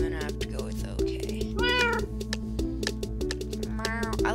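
A cat's meow sound effect from the Minecraft video game rings out over game music, with a couple of short tonal meows standing clear of the steady background.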